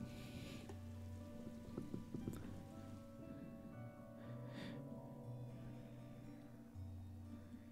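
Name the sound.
rain in video game Darkside Detective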